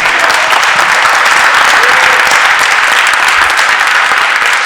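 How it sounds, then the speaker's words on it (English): A large audience at a tutoring program's end-of-day session bursts into loud, sustained applause, a thick continuous roar of clapping hands that fills the room for nearly five seconds. "can everybody join me in a round of applause for all this?"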